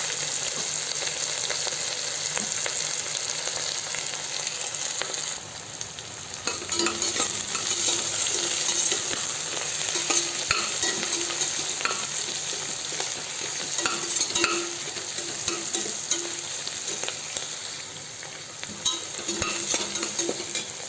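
Onions, green chillies and curry leaves fry in a pan with a continuous close sizzle. Scraping stirs and light clinks come and go throughout, and no one speaks.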